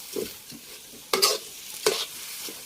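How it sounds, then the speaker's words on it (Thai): Shrimp stir-fried in a pan with fish sauce, a spatula scraping and tossing in short strokes, with soft sizzling between the louder stirs, close up and without talk. "ตอนนี้ก็ผัดแล้วนะทุกคน ผมก็จะผัดแล้ว"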